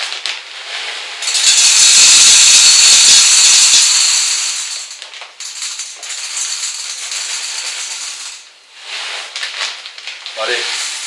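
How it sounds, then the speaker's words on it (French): Seeds for cooking pour into a pot in a dense, hissing, rattling stream that swells, fades and resumes, with a brief voice near the end. "vous mettez les graines que vous souhaitez cuire dedans"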